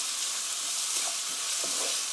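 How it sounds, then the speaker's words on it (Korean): Seasoned spicy chicken stir-frying in a pan, a loud, steady hissing sizzle with faint stirring movements, brief and close, no voices. "stir fry 3 minutes"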